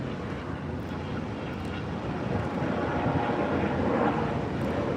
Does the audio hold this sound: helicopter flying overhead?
yes